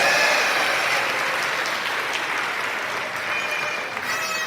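A large audience at a gun responsibility fundraising gala gives a sustained round of applause, dense and fairly loud, tapering slightly toward the end.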